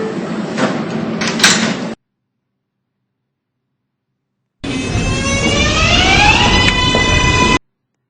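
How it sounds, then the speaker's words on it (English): New York 6 subway train doors slide shut with a loud rush, followed after a silent gap by the train's motor whine rising in pitch as it pulls away. "Stand clear of the closing doors,"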